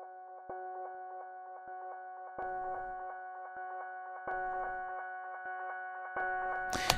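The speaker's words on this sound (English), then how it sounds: "Blips are taking pieces from the original guitar sound and creating this kind of groove," Techno blips cut from pieces of an original guitar sound form a steady groove of short repeating ticks over a sustained tonal bed, with brief noisy bursts recurring every couple of seconds and a louder burst at the end.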